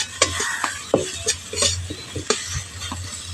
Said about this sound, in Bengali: টমেটো কুচিটা দিয়েও মশলার সঙ্গে একটু ভালো করে নাড়াচাড়া করে নেব